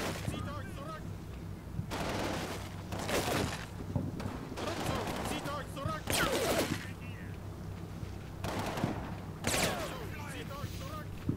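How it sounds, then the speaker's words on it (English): Light machine gun fire in a video game comes in short, intermittent bursts of sharp cracks, several separate volleys a second or so apart over a constant low rumble. "we're getting some intermittent fire from, sounds like probably a light machine gun"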